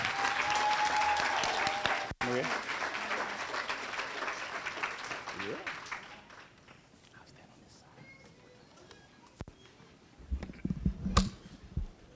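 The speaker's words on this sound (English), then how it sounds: "let's give these nice-looking young men and women a nice round of applause" Audience applause at the 2023 LYS Awards and Induction Ceremony, loud and sustained for about six seconds, then tapering into scattered claps, footsteps and murmurs.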